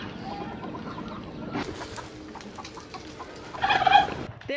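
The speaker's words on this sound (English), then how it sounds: "There is a turkey in there." A turkey on a farm in a remote mountainous rural area of China gobbles and clucks amid ambient outdoor noise, with a louder, sharper burst of calls near the end.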